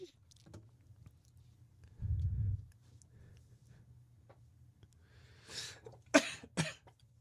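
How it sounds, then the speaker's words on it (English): A person coughs several times in a quiet room during a craft session on pixel quilt patterns, harsh bursts near the end after a low rumble, fairly close and moderately loud. "all of a sudden I can cough from 6 rooms away"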